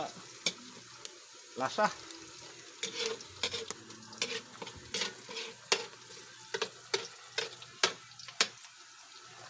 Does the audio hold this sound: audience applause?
no